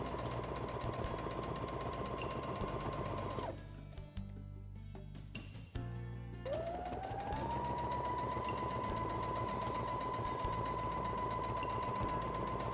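Sewing machine stitching cloth for a fabric diaper holder, a steady fast whirring drone that pauses briefly twice, then resumes and runs evenly, heard close.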